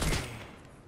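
A single loud AK rifle shot or short burst in Fortnite, a sharp broadband crack that decays quickly over less than a second, with no talk over it.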